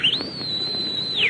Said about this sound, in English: Why did you whistle?